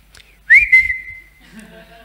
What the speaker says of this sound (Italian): se non mi senti con questo fischio ne faccio uno più forte